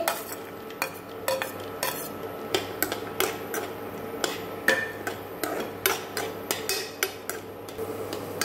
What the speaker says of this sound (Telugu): ఘీ మెల్ట్ అయిపోయింది ఈ డ్రై ఫ్రూట్స్ అన్నీ కూడా బాగా ఫ్రై చేసుకోవాలి